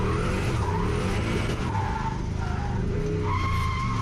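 A turbocharged 1UZ V8 Lexus LS400 drifts in third gear at a drift day, its tires skidding and squealing continuously over a steady engine roar, loud and close throughout.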